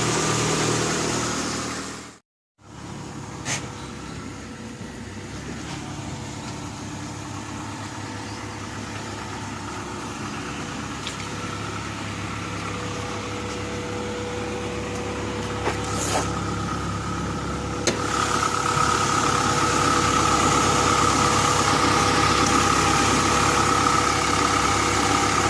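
A car's swapped engine idles steadily right after its first start-up, a continuous mid-pitched hum with a brief dropout near the start and a slightly louder, steady drone toward the end, with no voices.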